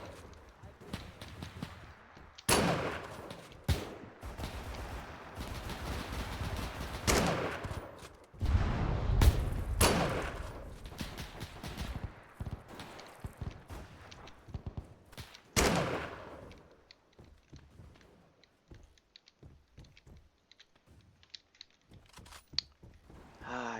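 Hip-fired gunshots in Arma 3, Iron Front era weapons, ring out as scattered sharp cracks and short bursts across a town assault, some loud and close, others distant, with intermittent voices over the action.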